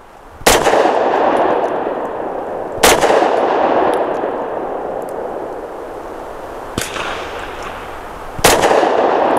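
Taurus GX4 pistol with a ported barrel fires Federal 70 grain lead-free ball ammunition: four sharp, loud single shots spaced a couple of seconds apart, each followed by a long ringing outdoor decay.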